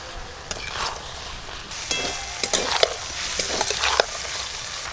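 Fried potatoes and jackfruit being stir-fried in a pan with ginger-garlic paste, a steady sizzle under scraping spatula strokes and clinks, close up with no talk.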